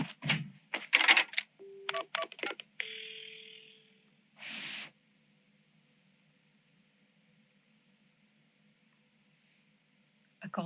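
Telephone keypad dialing in the Paranormasight video game: a rapid run of separate DTMF tones, then a short steady tone and a burst of noise, followed by near silence.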